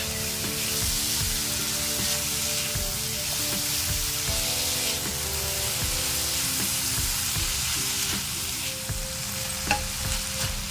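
Chopped vegetables with tomato, salt and oats for masala oats sizzle steadily in a pan while being stirred, with soft scraping knocks over the constant frying hiss.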